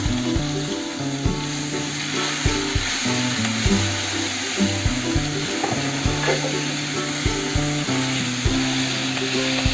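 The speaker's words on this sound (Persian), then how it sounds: "و پیازمون رو به روغن اضافه کنیم." Onions sizzling loudly in hot oil in a pan for an eggplant and chicken stew, a steady close crackle and hiss with occasional stirring scrapes, no talk.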